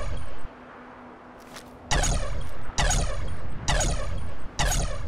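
Energy gun firing in a video game, a sequence of four loud sharp bursts with ringing, rippling tails, spaced roughly a second apart after a quieter lead-in.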